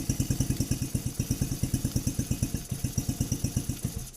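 A Coolster Challenger 125 go-kart engine idles close by on its first startup with the choke on, a steady, fast chugging pulse that stays loud and even throughout, with no one speaking.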